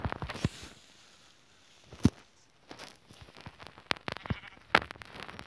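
Sheep in Minecraft Pocket Edition bleat in a few short, separate calls, with soft footstep-like patter between them, fairly quiet with no talking.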